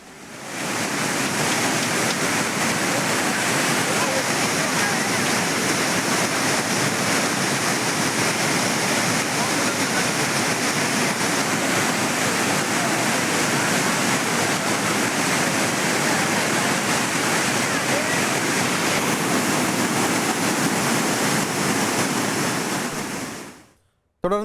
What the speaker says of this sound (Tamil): மேற்கு தொடர்ச்சி மலைப்பகுதிகளில் தொடரும் மழையால் குற்றால அருவிகளில் வெள்ளப்பெருக்கு ஏற்பட்டுள்ளது